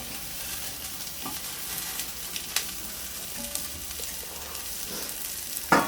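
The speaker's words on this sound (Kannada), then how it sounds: "ನೀರುಳ್ಳಿ ಫುಲ್ ಹಾಕಿ ಈಗ ಒಳ್ಳೆ ಮಾಡಿ ಫ್ರೈ ಮಾಡಬೇಕು" Onions stir-fry in a pan with a soft continuous sizzle, broken by scraping stirs and occasional utensil taps, ending in a sharper clatter.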